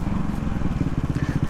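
A CCM Bobber motorcycle's engine runs close and loud, a rattly, thumpy low pulsing that holds steady without a break.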